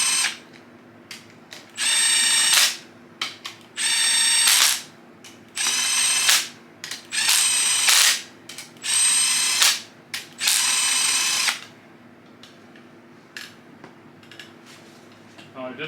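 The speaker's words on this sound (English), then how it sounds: "Now I did set the torque wrench" A torque wrench ratchets in repeated bursts on the timing gear bolts of a Cobra engine, close and crisp, separated by short quiet gaps and ending in faint ambient sound.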